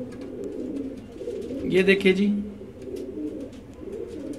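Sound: pigeons cooing

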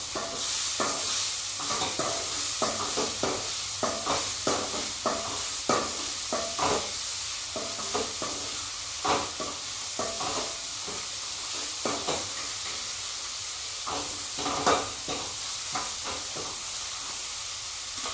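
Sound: bitter gourd and tomato frying in oil

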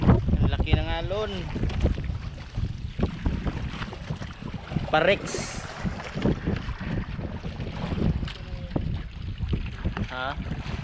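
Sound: big waves and wind around fishing boat

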